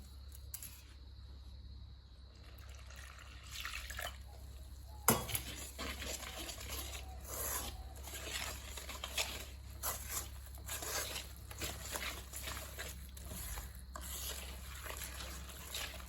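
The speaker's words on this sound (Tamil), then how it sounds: "நாங்கள் இந்த மாவை நல்லபடியாக கரைக்க போகிறோம். தண்ணி விட்டு கரைக்க போகிறோம்." Flour and water for Aadi koozh porridge are stirred together in a pot, with faint, close scraping and swishing strokes that repeat irregularly, punctuated by one sharp clink.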